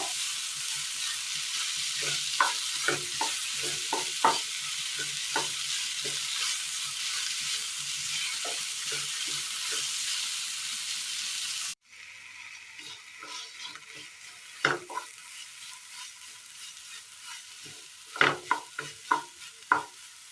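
Long-sliced onions fry in a pan while a spoon stirs them, producing a steady loud sizzle broken by frequent scraping taps. Partway through, the sizzle quiets abruptly and the stirring clatter goes on.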